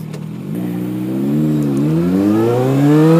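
A motorbike engine revving up in traffic, its pitch climbing steadily from a low idle to a higher, louder whine over a few seconds, close and alone with no talking.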